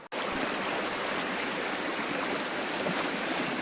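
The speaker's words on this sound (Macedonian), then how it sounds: "толку е поголема ова вода овде, главниот извор на Црна." Water rushing from the main spring of the Crna river, a dense, steady roar of flowing water close by that continues without a break after a brief click at the start, with no voices.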